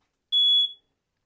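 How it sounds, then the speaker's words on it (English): Smoke detector test signal in a Newmar Grand Star RV: a single loud, shrill electronic beep of about half a second, clean and steady, alone in silence. "If you press to test and you don't hear the warning signal, you'll have to replace the smoke detector"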